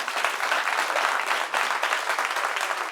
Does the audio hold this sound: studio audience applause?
yes